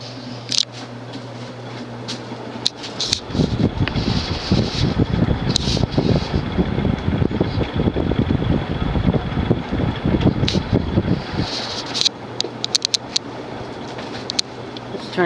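An Encon (Crompton Greaves) High Breeze 56-inch ceiling fan with a non-reversible motor runs with a loud, gritty rattling rumble that lasts about eight seconds, set between quieter stretches of steady humming.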